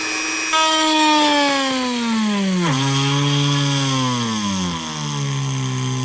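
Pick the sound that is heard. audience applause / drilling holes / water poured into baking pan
drilling holes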